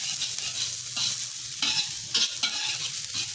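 Shallots and garlic stir-fried in a hot pan, a steady close sizzle with bright crackle broken by repeated scraping strokes of a utensil against the pan, no voices.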